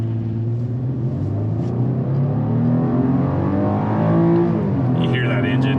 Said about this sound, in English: You hear that engine, it's noisy but not smooth.